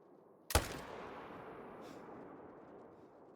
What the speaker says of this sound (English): That was a good shot, that second one.